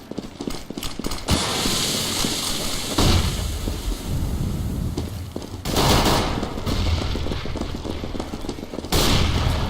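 Gunfire in CS:GO on de_dust2 at a women's tournament match: dense loud bursts of shots and rifle fire in clustered volleys, with heavy sustained noise between them and no talking.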